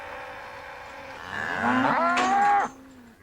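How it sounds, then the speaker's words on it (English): A cow on a dairy farm gives one long, loud moo that rises in pitch and then breaks off, close by with no talking, as the herd gathers around a newborn calf. "Other cows always seem to show a strong interest in the new calf."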